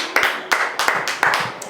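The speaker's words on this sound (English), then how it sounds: "Why don't you give the Lord a clap this morning?" A small church congregation claps for the Lord during a morning staff prayer meeting, giving about seven sharp, evenly spaced claps nearby, with some talk underneath.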